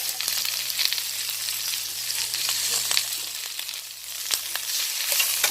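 Spinach sizzles and crackles steadily in a hot pan with crushed pepper and seasoning as it wilts, a close, busy frying hiss with small pops and no voices.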